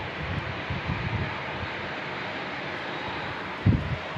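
A WestJet airliner arriving at San Diego airport gives a broad distant engine roar, steady and moderate, with wind buffeting and a brief thump near the end.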